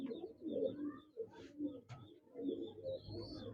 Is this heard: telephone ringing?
no